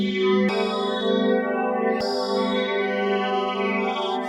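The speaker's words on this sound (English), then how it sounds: "And we'll just listen to the wave sweeping." A bright Studiologic Sledge 2.0 wavetable tone with rich harmonics sweeps continuously through a bandpass filter, its timbre rising and falling, restarting abruptly twice, with no voices.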